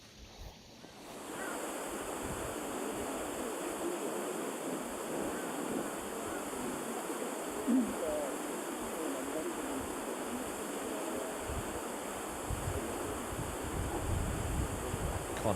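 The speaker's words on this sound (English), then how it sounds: "Iconic waterfall right by the 9th green at Jade Palace." Continuous rushing water of a waterfall beside the 9th green at Jade Palace golf course during a KLPGA tournament, a steady broadband roar that holds evenly for about fifteen seconds with no voices over it.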